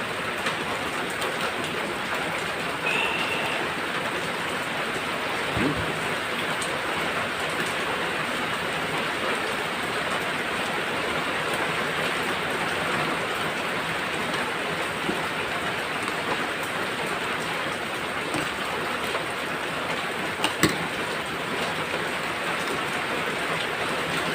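Steady, dense rainfall hisses continuously throughout, with an occasional faint knock in the background.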